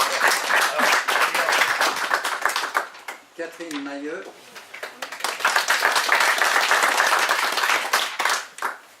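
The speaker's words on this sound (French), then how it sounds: "on l'applaudit." Applause breaks out at a general assembly as new members are named, steady dense clapping from a crowd that briefly dips while someone speaks a name, then swells again loud and sustained.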